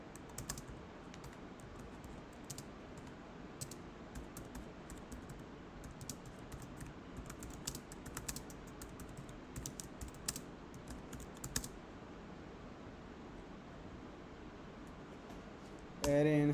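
Close, quiet clatter of computer keyboard typing in bursts of rapid keystrokes that pause briefly. A voice speaks over the tapping.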